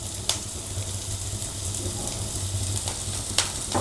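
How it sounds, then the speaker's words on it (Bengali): Onions and green chillies sizzling in a pan for a kadhai chicken, a steady close crackle with a few sharp clicks of stirring, no talk. "তো পেঁয়াজটা হালকা হালকা করে ভাজা হয়ে গেছে আমার। এরপরে আমরা কাঁচা লঙ্কাগুলো দিয়ে দেবো।"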